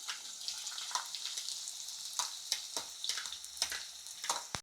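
Three medium onions, thinly sliced, frying in hot oil in an iron kadai, giving a close, continuous crackling sizzle broken by sharp bursts and stirring scrapes.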